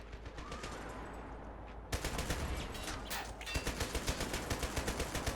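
Bren light machine gun fire in the WWII strategy game Men of War: Assault Squad 2, set at Tobruk 1941, rattles in quick repeated bursts, then a steady rhythmic string of loud shots.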